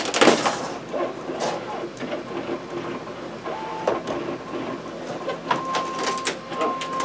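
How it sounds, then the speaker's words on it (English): Busy mechanical whirring with short servo-like whines and clicks, a 3D printer running a print job at close range with a faint tone gliding in pitch. "Sorry about the noise. I got a 3D printer job going."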